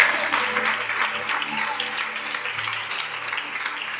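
A church congregation at a worship service applauds to declare that God is great. Steady, moderately soft clapping from many hands carries on evenly, with faint voices murmuring underneath.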